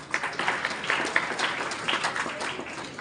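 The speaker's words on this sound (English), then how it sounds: "Please clap for him." Students at a school morning assembly applaud, a fairly quiet, somewhat distant patter of many small hands clapping, steady for a few seconds with no talking.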